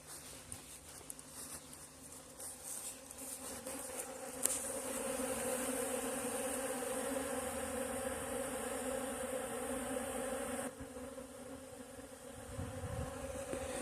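Steady insect buzzing fills the scene, a dense hum of many honey bees close by near a hive, continuous with a brief louder swell and a slight shift near the end.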